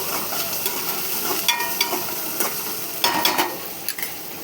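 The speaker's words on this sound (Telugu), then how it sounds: "ఇది కొంచెం గోల్డ్ కలర్ వచ్చేదాకా వేయించుకోవాలి" Something frying in a pan until golden while being stirred, a constant sizzle broken by several sharp scraping and clinking strokes of a utensil against the pan, close by and without speech.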